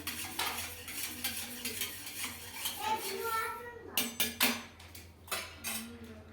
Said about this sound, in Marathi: हे दही आपण आता हलवून घेऊया एकदम